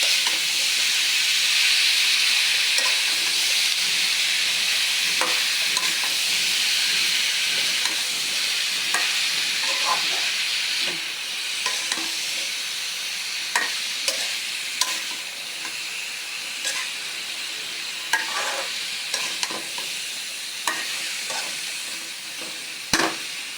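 Drumstick stalks and curry leaves sautéing in a pan, a steady hiss of frying that eases slightly partway through, with repeated scrapes and clicks of a spatula stirring close by.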